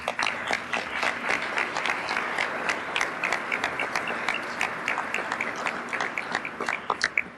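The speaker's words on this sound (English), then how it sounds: "So please give Stephanie a round of applause." A legislative chamber audience applauds in a sustained round of crisp, scattered individual claps blending into steady clapping, moderately loud throughout with no speech.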